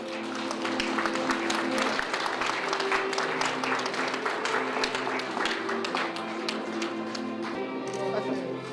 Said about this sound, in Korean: 모두 박수로 축하해 주시기 바랍니다.